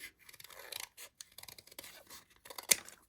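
Scissors cutting out a piece of cardboard up close, with short rasping snips and scraping strokes in irregular bursts, ending on a sharper louder snip, no talking.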